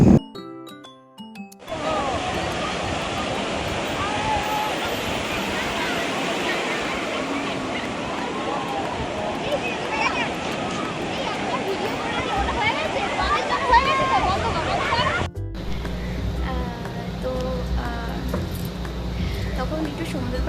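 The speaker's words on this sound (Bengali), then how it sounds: "সমুদ্রের পাড়ে এত ভিড় ছিল, এত মানুষ এসছে" Dense crowd hubbub on the seashore at Digha beach, a steady wash of many voices mixed with surf and wind, loud and continuous for most of the span before shifting to a quieter scene near the end.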